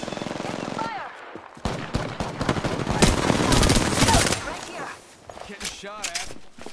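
Rapid automatic gunfire and scattered shots crackle through an Apex Legends fight, loud and dense through the middle, while players talk over it.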